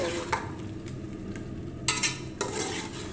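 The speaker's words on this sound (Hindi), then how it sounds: "3 से 4 मिनट इसी तरह इसे फ्राई करना है।" Chicken neck biryani masala stir-fried in a pot, with a steady sizzle under repeated scraping strokes of a spoon against the pot and a couple of sharper metallic clinks; close and fairly loud, no talking.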